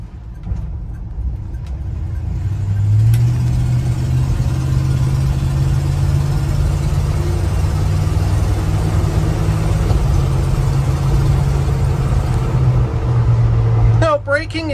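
A 1969 Chevrolet C10 long-bed pickup hums along steadily while turning, its engine a low continuous drone throughout, with someone talking over it from inside the cab.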